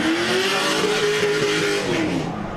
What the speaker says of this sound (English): Mustang noises.